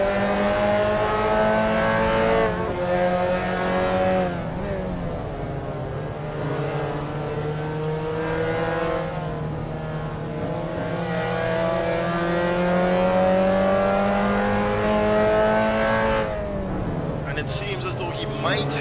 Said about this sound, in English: now Ryan Hunt very heavy on the brakes there